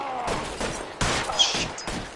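Gunfire in the LA Noire video game, several sharp shots spread across a couple of seconds, loud and close, mixed with other game noise.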